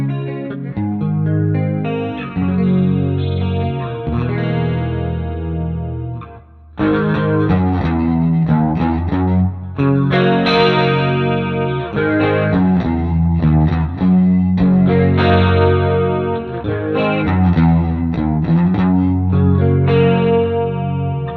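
Electric guitar through a ToneX amp profile of a Roland JC120 with chorus engaged, playing chords and riffs continuously for about twenty seconds. The tone is shimmering, with a brief pause around the seven-second mark before playing resumes loudly.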